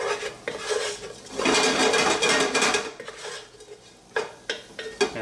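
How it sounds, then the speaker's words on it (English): A spoon clinks and scrapes against a pot while sachet ingredients are stirred into espagnole brown sauce, with a steady scraping stretch followed by several sharp, close metallic taps. "Stir these around a little bit."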